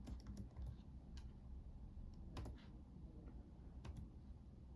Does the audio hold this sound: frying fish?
no